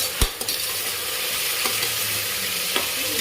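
Four or five chopped medium tomatoes sautéing with onions in a pan for vegetable biryani make a loud, close, continuous sizzle. A couple of sharp knocks come near the start, then the hiss stays steady and even.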